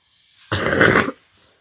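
A single short, harsh cough-like burst rises out of near silence and stops abruptly, close and fairly loud, with no talk around it.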